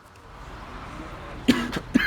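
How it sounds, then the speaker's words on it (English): Two short coughs from a man, sharp bursts a moment apart, rising over a steady low engine-like hum in a truck. "Man, I don't know why I just started coughing all of a sudden."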